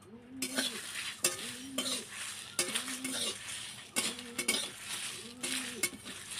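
Whole cloves and cardamom fried in a pan over low heat, a metal spoon stirring and scraping in repeated strokes about once a second, with a steady soft sizzle underneath.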